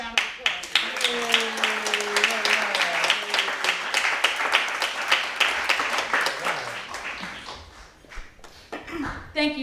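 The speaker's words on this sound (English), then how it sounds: "Just one more round of applause." A room audience claps in warm, sustained applause at an end-of-life event, loud and close, thinning out near the end as a voice briefly comes through.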